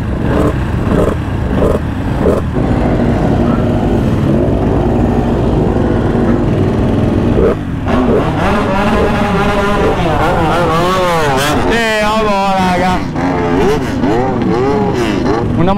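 A loud MotoGP motorcycle engine with a flame arrester idles with sharp throttle blips, then revs up and down repeatedly in rising and falling whines, very close.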